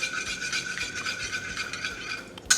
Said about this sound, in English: we're going to give a very light whisk of this egg, just to break up the yolk and incorporate with the white.